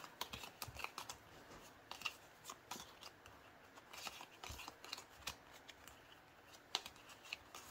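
Paper cash bills being shuffled by hand, a rapid series of crisp flicks and rustles with irregular rhythm, close and quiet, no talk.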